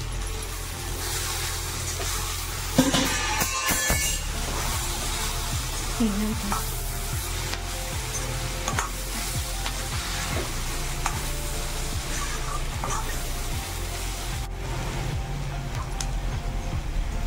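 Capsicum curry with roasted gram powder being stirred and frying in a pan, a continuous close sizzle with occasional scrapes, a louder clatter near the start and a steady low background hum.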